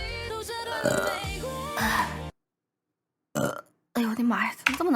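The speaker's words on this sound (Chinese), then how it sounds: "怎么这么能打嗝啊？" Loud, drawn-out burps from a VTuber, one long croaking belch followed by shorter ones separated by a silent gap, with voices talking and laughing around them.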